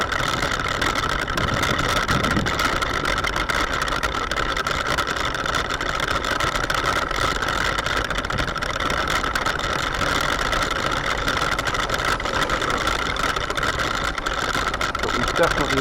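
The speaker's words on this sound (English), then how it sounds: "I think I've cooked that motor." An overheated electric motor in an RC truck pulling a trailer whines steadily and evenly, with a continuous mid-pitched hum at moderate level as a voice talks over it.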